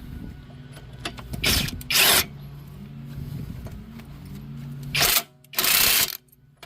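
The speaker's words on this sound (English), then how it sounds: "Then I get my drill, 22 millimeter." A power drill fitted with a 22 mm socket works a strut nut on a Toyota Camry, giving several short loud whirring bursts between quieter handling noises and scraping, heard close up.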